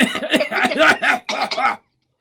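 A voice imitates rapid autocannon fire with a quick burst of short, harsh coughs, about eight in under two seconds, then silence.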